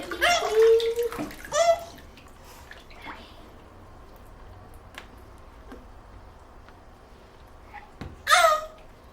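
Bath water splashes and trickles while a small child is bathed in a tub, soft and close, with brief louder splashes at the start and end and faint drips in between.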